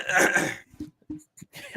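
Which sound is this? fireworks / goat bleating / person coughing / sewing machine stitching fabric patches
person coughing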